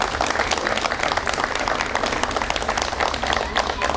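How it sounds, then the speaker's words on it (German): An audience at a Freie Wähler party event in Korbach claps for a departing leader: loud, dense, sustained applause filling the room throughout, with no pause or fade. "dafür hat er mal wirklich einen ganz tollen Applaus verdient."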